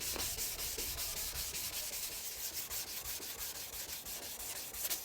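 Maroon Scotch-Brite pad rubs across the clear coat of an old Rover body panel in quick, steady back-and-forth strokes, a close, even abrasive scrubbing with no voices.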